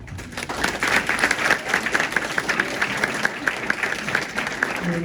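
Crowd applause following a speech by a pastor, a steady patter of many hands at moderate volume with some crowd murmur beneath, continuing evenly throughout.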